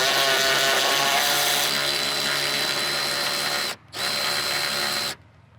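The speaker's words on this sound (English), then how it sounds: "as we run these nuts off of these longer studs on this strut" Milwaukee M12 high speed ratchet spinning nuts off the long studs of a strut mount, a loud steady whining motor run of about four seconds, a brief pause, then another short burst before stopping.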